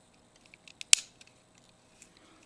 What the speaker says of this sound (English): I'll cut right to that slot, and I'll just cut a slither out of there so I can get my wires through there